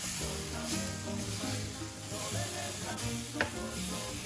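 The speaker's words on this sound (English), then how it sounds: "I'm going to stir this around a little bit" Beans being stirred in a pan for a vegan Cinco de Mayo dish, a continuous soft sizzle with shuffling, scraping movement throughout and one brief clack near the end.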